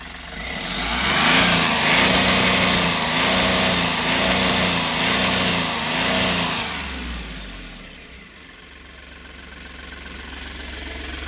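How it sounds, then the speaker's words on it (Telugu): A 2023 Mahindra Bada Dost pickup engine runs after starting on the self-starter, a loud, rough, slightly knocking idle that swells, then settles into a quieter steady rumble for the rest of the clip. "మీకు సింగిల్ సెల్ఫ్లో స్టార్ట్ అయితే అయిందండి"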